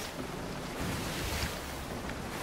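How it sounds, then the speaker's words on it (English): Stormy open sea in the pirate game Sea of Thieves, with a steady roar of wind and crashing surf around a sailing ship, loud and continuous with gusts swelling midway. "Oh, that storm is actually following us."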